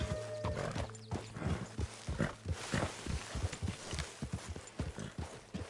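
A horse in the video game Red Dead Redemption 2 clops along at a steady walking rhythm, with a whinny early on and snorts over the hoofbeats, close and clear.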